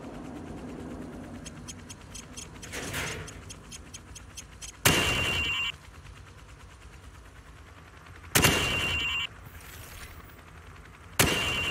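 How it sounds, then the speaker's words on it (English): Rifle fire at range targets in Call of Duty 4: Modern Warfare, shot from the hip, with a fast rattling burst early on, then three loud, separate bursts spaced a few seconds apart over quiet background ambience. "Now, shoot at the targets while firing from the hip."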